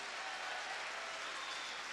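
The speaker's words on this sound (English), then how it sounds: "that earns a round of applause from the Panthers fans" Ice hockey fans of the Nottingham Panthers give a round of applause in an arena, a dense, steady wash of clapping that holds evenly throughout at moderate distance.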